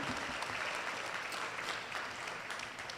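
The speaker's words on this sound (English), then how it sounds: "Please give him another round of applause." Audience applause at a school district parent awards ceremony, a continuous wash of many hands clapping from a crowd, fairly distant and even for the whole stretch.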